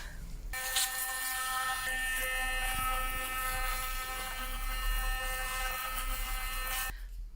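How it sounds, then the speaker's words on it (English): A Fairywill P11 sonic electric toothbrush buzzes steadily while brushing teeth, a close, continuous high-pitched hum that starts abruptly after half a second, holds evenly for about six seconds, then cuts off. "Let's have a go at cleaning my teeth with it."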